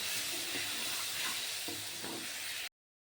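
A spice paste of ground coriander, cumin and chilli powder fries in a pan for a no-onion, no-garlic kofta curry. A soft, dense hiss carries a few light knocks from stirring, then cuts off abruptly.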